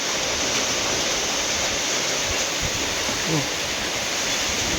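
Heavy rain lashes a pig pen at night, water splashing and pouring in, a loud continuous wash of noise with no break.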